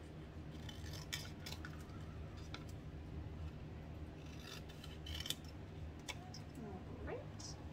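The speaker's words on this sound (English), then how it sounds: "Scissors here. I'm going to have both pieces together and I'm going to cut these out" Scissors snipping through two stacked pieces of card for a bubble tea greeting card, several short crisp cuts at close range over a steady background hum.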